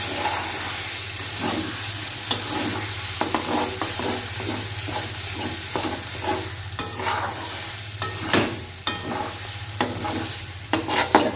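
Banana flower (mocha) being stirred as it fries dry in a pan, with a steady sizzle and hiss under a stream of scraping spoon strokes, sharper clacks landing every second or so.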